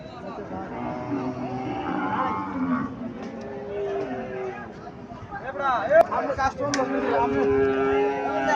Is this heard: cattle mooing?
yes